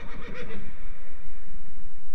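A horse neighs once, loud and close, its whinny trailing off into a long fading tail with no talking.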